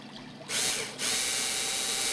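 A cordless driver whirs in two short bursts, a brief spin followed by a longer, steady grinding run as a screw goes into wood, close up.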